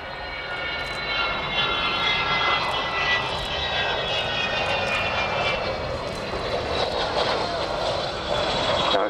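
Loud roar of the four Olympus engines of Avro Vulcan B2 XH558 passing by at the Royal International Air Tattoo, a sustained rumbling whine with shifting tones, heard from a distance outdoors.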